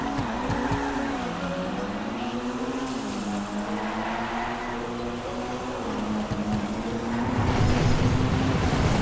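A Vauxhall Corsa C in a GTA race skids through a sharp turn, its engine drone wavering as the tires squeal, with a louder rush of noise building at the end.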